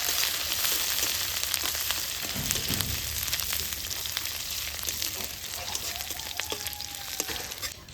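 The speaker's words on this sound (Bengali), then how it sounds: "আদা কাঁচা লঙ্কাটাকেও একটু ভেজে নেব" Crushed ginger and green chillies sizzle steadily in a hot pan with oil, a continuous close frying hiss with a soft stirring scrape midway.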